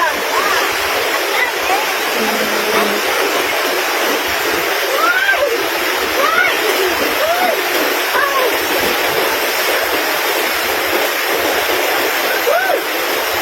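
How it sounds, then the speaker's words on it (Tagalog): A strong river current roars continuously and close by in San Juan, Libertad, Antique, a churning rush, with birds chirping faintly and a voice calling out over it. "Alakas ang agos ng tubig!"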